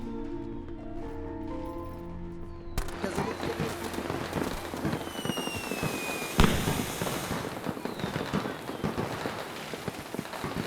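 Firecrackers bursting during Diwali celebrations, a dense crackling barrage with one sharper bang, continuous and fairly loud after a brief quieter opening with a tonal background.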